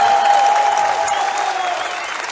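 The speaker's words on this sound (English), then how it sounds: "One big round of applause, ladies and gentlemen, for Team Argentina!" An audience at a CS:GO esports championship semi-final applauds loudly and steadily, many hands clapping together in a dense, sustained wash that fades slightly toward the end.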